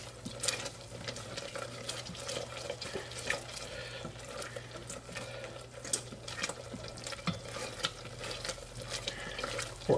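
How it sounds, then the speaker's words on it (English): Vegan green curry stirred steadily in a pot, soft scraping and swishing with faint liquid sizzle over a low steady hum, close and fairly quiet with no voices. "Now it's diligent stirring."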